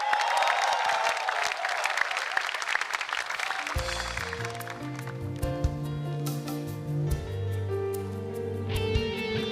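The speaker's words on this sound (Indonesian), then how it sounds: "Tepuk tangan sekali lagi dong untuk Cynthia Sare." Loud studio audience applause and crowd noise on a television show fill the first few seconds, then music takes over and carries on to the end.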